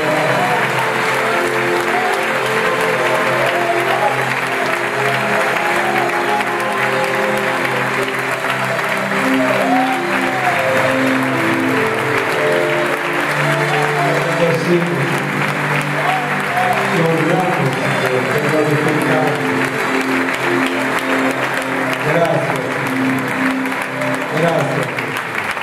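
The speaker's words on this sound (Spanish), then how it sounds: "Y este pueblo te da un aplauso de gratitud" A church congregation applauds in gratitude and praise, sustained and loud for a long stretch, with music and voices running underneath the clapping.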